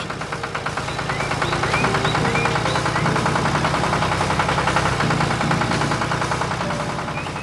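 A tractor engine chugs steadily nearby on a farm, with a continuous rhythmic mechanical knock under a broad, noisy drone.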